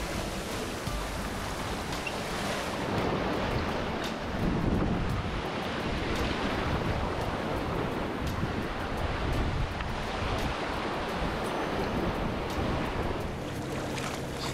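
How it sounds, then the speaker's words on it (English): Wind and rising waves on open water aboard a sailboat near Bear Point, heading for the Broughtons: a continuous loud rushing of wind buffeting the microphone, with the wash of waves underneath and no talking. "The waves are picking up again."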